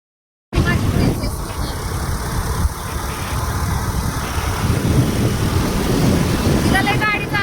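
A car being driven, its engine and road noise starting abruptly after a short silence and then holding as a steady close rumble with wind noise, while a voice talks briefly.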